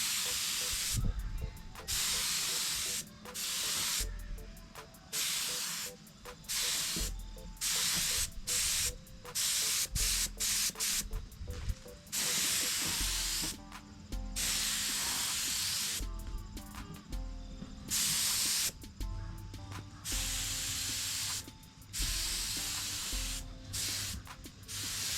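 A spray can puts coats of paint on parts of a Honda Fury motorcycle in short, loud hissing bursts separated by brief pauses, repeated many times, close to the listener.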